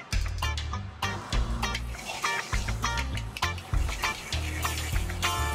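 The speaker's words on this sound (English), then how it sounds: "You really wanna make sure you're searing the fat cap" A dry-aged Duroc pork chop sears fat-cap down in a hot pan, a dense close sizzle with crackling pops and spatters, loud and continuous, with background music.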